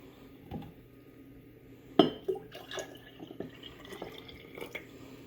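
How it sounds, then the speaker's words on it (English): Cold milk poured into a mason jar while making a copycat pumpkin spice latte, giving a brief glassy splash and trickle around the middle, then scattered light clinks and drips against quiet kitchen background. "Okay, our cup of cold milk is added."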